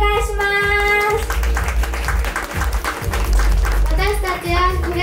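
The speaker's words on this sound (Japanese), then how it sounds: "楽しんでるって方拍手お願いします" Audience applause at a live kids' vocal class show in Kure, steady dense clapping with music tones and children's voices mixed in throughout.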